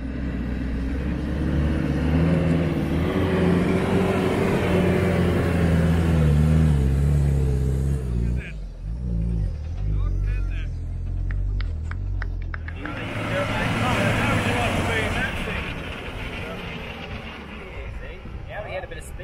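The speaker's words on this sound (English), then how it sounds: "Here, Pete is having the first attempt and seeing what is required to tow that buggy up there." A Fuso truck with a 4-liter engine tows a buggy uphill, its engine rumbling loudly and straining under load before dropping off briefly and rising again, while people talk over it.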